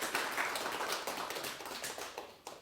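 Congregation applauding inside a church, a steady wash of many hands clapping at moderate distance with no speech over it.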